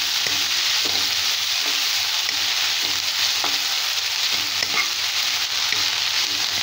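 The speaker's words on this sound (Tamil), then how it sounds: "லைட்டாக இதையும் வதக்கிக்கலாம்." Banana flower mixture for vadai sautéed in a pan, with a steady loud sizzle and occasional soft scrapes of stirring, no voices.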